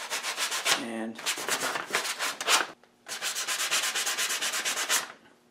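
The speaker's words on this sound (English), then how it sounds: "I just have some 220 grit sandpaper here" A blade burr is rubbed off with 220 grit sandpaper in quick, rhythmic back-and-forth strokes, grouped into three close, loud bursts with brief pauses between them.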